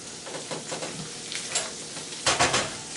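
Celery, onions, garlic and chorizo sausage sautéing in bacon grease for Brunswick stew, heard as a soft, close sizzle with a few stirring scrapes and a louder burst of frying near the end.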